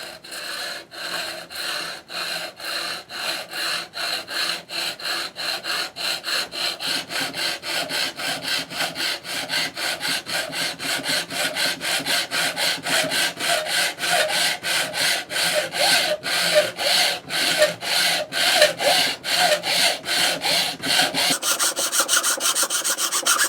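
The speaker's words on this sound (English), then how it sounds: "We're going to take our hacksaw and put it on top here just like this" A hacksaw cuts through a metal towel rack bar in steady, evenly spaced back-and-forth strokes that grow slightly louder and quicker toward the end, close up with no talk.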